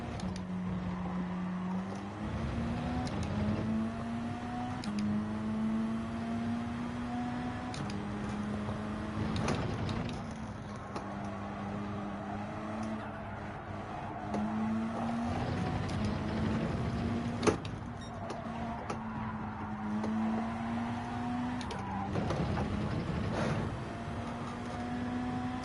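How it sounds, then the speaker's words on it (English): Mitsubishi race car engine in Gran Turismo 7 GT3 lobby racing, a steady droning note rising and falling through gear changes, with turbo flutter and downshift blips breaking in every few seconds, continuous and fairly loud with no talk. "I'm loving the sound of this engine from the Mitsubishi. It's got that aggressive turbo flutter and the downshifts"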